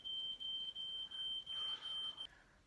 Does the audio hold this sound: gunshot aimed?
no